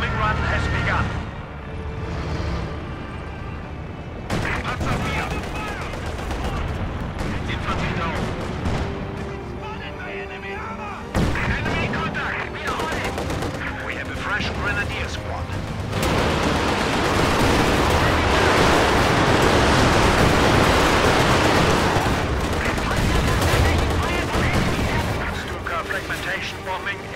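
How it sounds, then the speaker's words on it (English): Fragmentation bombing run in Company of Heroes 2, a sustained roar of explosions and gunfire that builds louder and denser toward the middle, with voice lines spoken over it. "Fragmentation bombing run has begun."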